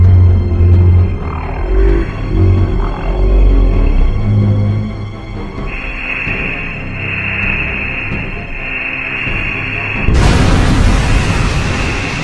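A loud bomb explosion bursts near the end, its wideband roar cutting in sharply after a stretch of low rumbling and a steady tone.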